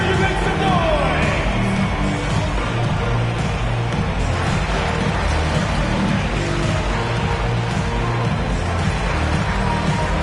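Fans in a basketball arena cheer and yell in a continuous, loud wash of crowd noise, dense and unbroken throughout.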